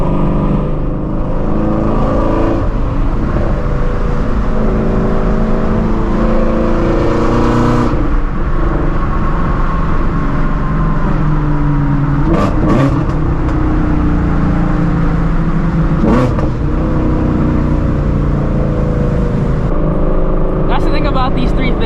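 A Porsche GT3 and a Shelby GT350 drive through traffic with steady loud engine drone and cabin road noise, rising in a few revving surges, with people talking over it.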